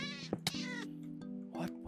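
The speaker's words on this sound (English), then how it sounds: "The cat!" A cat meows several times in Minecraft, played with the All The Mods 8 modpack. The calls are short and tonal, loud and close, with two sharp clicks between them and no talking.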